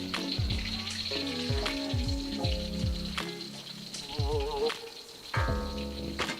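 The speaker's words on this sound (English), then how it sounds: "Just throw some French fries into that fryer oil at the very, very end." Frozen French fries deep frying in hot oil give off a steady crackling sizzle throughout, with a voice talking over the bubbling.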